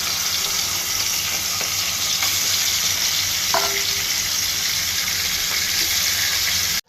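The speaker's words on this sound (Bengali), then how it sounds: "চুলায় ফ্রাই প্যান বসাই দিয়েছি, ফ্রাই প্যানে তেল দিয়ে দিব, মাছগুলো দিয়ে দিব।" Fish frying in oil in a frying pan, a steady close sizzle that runs unbroken with faint clinks, with no voices, then cuts off abruptly at the end.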